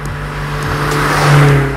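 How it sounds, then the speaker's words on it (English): A Honda CRX Si engine and exhaust drone steadily while driving, a low, even hum that swells slightly louder near the end as the car pulls, heard close with no talking. "I don't want to just hear loud exhaust, and I don't want to just hear engine internal spinning around."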